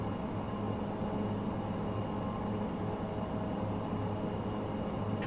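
Engine drone of an ATR turboprop aircraft in Microsoft Flight Simulator 2024, a steady, even hum with a low throb and faint tonal whine, unbroken and without any voices.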